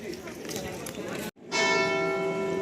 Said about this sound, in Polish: A, no jest dzwon.